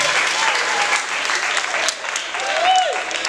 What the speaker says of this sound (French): Mes amis, ils applaudissent,